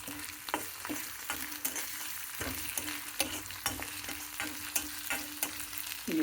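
Grated radish with onions, chana dal and ginger-garlic paste frying in a pan, a steady sizzle broken by regular scraping stirs of a spoon, close and unbroken by speech.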